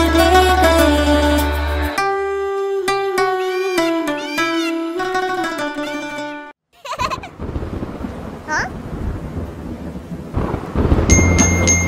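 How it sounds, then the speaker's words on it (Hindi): After a short musical passage, a dull thunder rumble gives way to steady rain hissing and pattering, with music returning at the end. "बारिश आई छम छम छम"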